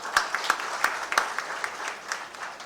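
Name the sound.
audience applause welcoming the deputy chief minister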